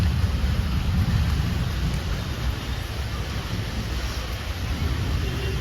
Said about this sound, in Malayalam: അല്ല, ഭയങ്കര മഴയൊന്നുമില്ല, ചെറിയ മഴ.